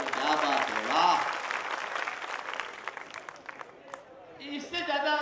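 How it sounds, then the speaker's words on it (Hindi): An audience claps at a live Hindi poetry recital during a Ganesh festival, a burst of applause under a performer's amplified voice, with the crowd noise fading as talking continues. "मजा आ रहा हो तो ढंग से तालियां बजाओ।"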